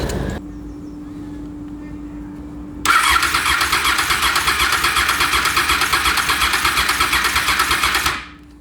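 A Honda VFR800fi motorcycle engine cranks over on the starter during a compression test, a fast, even, loud churning rhythm that runs about five seconds and then stops abruptly, following a quiet hum.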